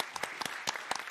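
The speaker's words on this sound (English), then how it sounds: "Let's give him all a warm applause." Faint, brief applause from the audience at an India–Sweden innovation day event, a short patter of separate claps heard from some distance.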